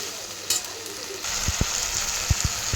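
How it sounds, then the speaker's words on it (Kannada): Tomatoes frying in a pan give a hissing sizzle that grows louder partway through, with a few sharp taps and scrapes from stirring. "ಫ್ರೈ ಆಗಲಿ ಚೆನ್ನಾಗಿ ಫ್ರೈ ಆಗಬೇಕು ಇದು ಟೊಮೆಟೊ ಎಲ್ಲ ಫುಲ್ ಸಾಫ್ಟ್ ಆಗಬೇಕು"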